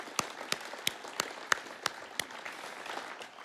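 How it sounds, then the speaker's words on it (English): Applause at a summit gathering, with a few loud, evenly spaced claps standing out close by over softer scattered clapping in the background. "give Troy a big round of applause"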